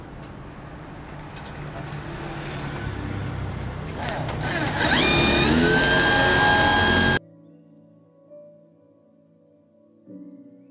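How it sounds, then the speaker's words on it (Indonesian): A power drill drills holes in a sewing machine table for mounting the motor, revving up to a loud, high whine for a couple of seconds, then cutting off abruptly, leaving quiet with faint knocks. "Kalau sudah dibor tinggal pasang aja dinamonya ya, tinggal bor dulu"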